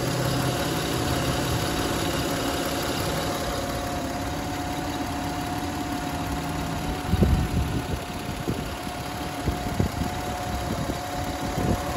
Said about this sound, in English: The engine sounds wonderful.